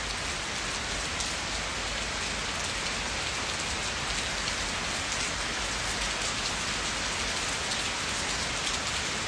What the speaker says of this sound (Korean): 비 많이 오네요